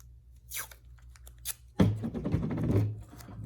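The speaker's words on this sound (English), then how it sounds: "I'm actually going to add a little bit of extra tape to my design," Tape is torn off and pressed onto a homemade zip line racer in an elementary STEM demo: light crinkly rips early, then a louder, sustained ripping tear with crunchy handling noise.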